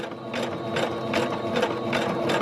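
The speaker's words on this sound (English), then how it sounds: "when I turn the sewing machine on, do not press the pedal until you're ready to sew" Sewing machine running a zigzag stitch along a fabric edge for a homemade battle jacket, a steady mechanical whir with rhythmic stitch pulses repeating about every 0.4 seconds, close and continuous.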